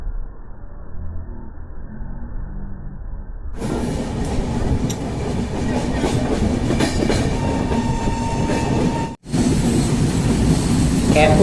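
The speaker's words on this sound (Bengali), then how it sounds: "এখন ট্রেন পাস করছে ফারাক্কা ব্রিজের ওপর দিয়ে।" Passenger express train crossing the Farakka bridge on the Howrah to Guwahati route, a loud continuous rumble and rhythmic clatter of wheels on the span heard from inside the coach, with a brief dropout partway through.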